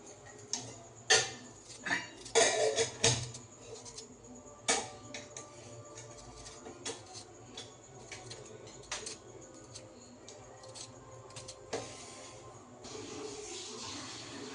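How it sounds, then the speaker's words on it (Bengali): Knife cutting potatoes, a string of sharp irregular chops and taps on a board, louder and closer in the first few seconds, then thinning to sparser, fainter clicks over a quiet room. "আলু কাটছি। একটু আলু ভাজবো।"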